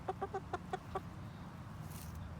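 One farmyard chicken gives about six quick, evenly spaced clucks at close range, then falls quiet against a low outdoor hum.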